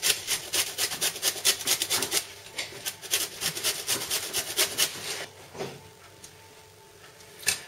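Citrus peel is grated on a hand grater for chocolate chip muffins, stopping short of the white pith: a close series of about fifteen rhythmic, scratchy rasping strokes, then a brief pause and a final stroke.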